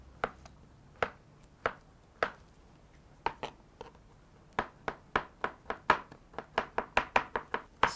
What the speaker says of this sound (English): Now we are to cut the avocado. Chop them gently.